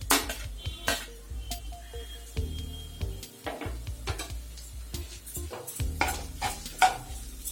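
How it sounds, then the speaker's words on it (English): A spoon stirs chopped green chilies, capsicum and tomatoes in a pan, making close, irregular scrapes and knocks against the metal over a soft sizzle, with no talking. "Mix it properly"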